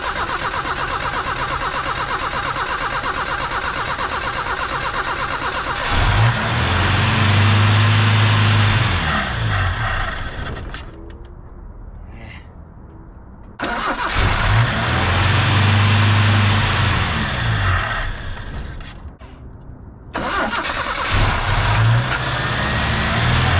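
A 1976 Chevy LUV engine cranks and fires up repeatedly, each start bursting into a loud revving roar that settles toward a rougher idle before cutting out, in three cycles close by, with no voices.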